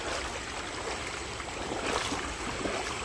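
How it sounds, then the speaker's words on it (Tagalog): Steady rushing water fills the whole clip, a broad continuous roar of a fast river current swollen by morning rain, with no talking. "Malakas ang agos ng tubig"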